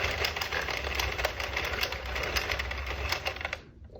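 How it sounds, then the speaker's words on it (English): An Addi knitting machine being cranked through a row of a knitted hat, giving a steady, close mechanical whirring clatter that runs for several seconds and then stops abruptly near the end. "After this row, it'll just start to just fall right off the machine naturally on its own."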